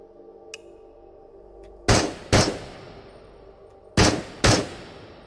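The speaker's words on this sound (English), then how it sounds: "Load the gun and shoot at targets until the mag is empty." Gunfire in the VR game Into the Radius as targets are shot until the magazine empties, with four loud, sharp shots arriving in two close pairs over a quiet hum, plus a couple of faint clicks before them.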